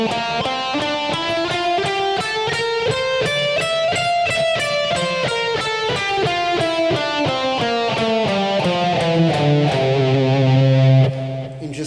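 A distorted electric guitar runs through a Mixolydian scale in a steady stream of picked notes, climbing and then descending. The tone is loud and saturated with effects, with no voices, and it closes on a held low note.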